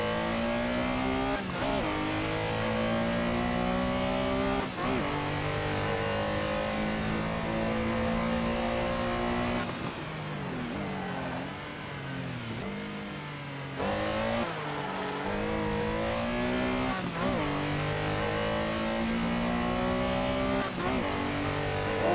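A Lego Speed Champions Porsche, set 75888, races in a VR racing simulator game, its engine revving high and steady, dipping briefly as it brakes and shifts mid-lap, then climbing again. The engine is loud and continuous throughout, with no talk over it.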